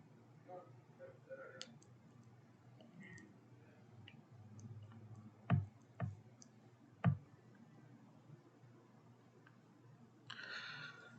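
Computer mouse clicking in a quiet room: a few faint, sharp clicks spaced a second or so apart over low background hiss, with a brief voice at the end.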